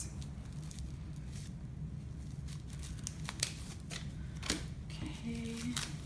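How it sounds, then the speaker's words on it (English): Packaging is unwrapped from a pink rose bath bomb with close crinkling, rustling and tearing sounds against a faint steady background hiss. "So let me just unwrap this."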